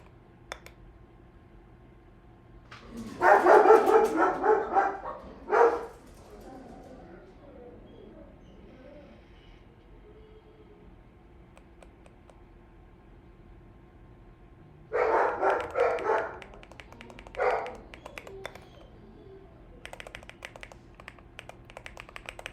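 Dogs bark in two loud bursts of several rapid barks each, separated by a long quiet stretch in an indoor room, with faint typing on a keyboard in between.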